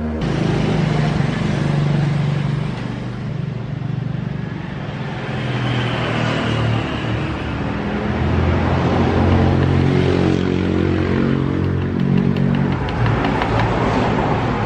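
Honda Beat scooter engine running after an oil change on a bike with thick white exhaust smoke, a steady, loud, close drone that holds fairly even throughout with slight swells, no talk.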